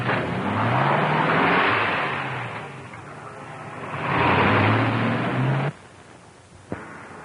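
A 1940-era car backs out and drives off, its engine rumbling and surging in two loud revving swells before cutting out abruptly, followed by near silence and a single sharp knock.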